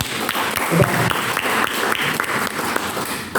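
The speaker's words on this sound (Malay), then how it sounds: "Bagi tepukan hari ni." Applause from an audience at a BTC Melaka event in Malaysia, a steady wash of clapping with a few sharper claps standing out, moderately loud and continuous throughout.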